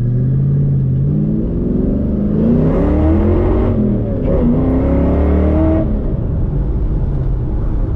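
A car engine with a faulty MSD ignition and lacking power idles roughly, then revs up with rising, straining pitch for a few seconds before falling back to a steady rumble, loud and close.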